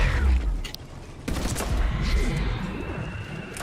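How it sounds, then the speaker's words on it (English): A Krogan SMG fires during Mass Effect 3 multiplayer: loud automatic bursts and crackling shots arrive in two clusters, mixed with game effects and faint background voices. "I'm using a Krogan SMG"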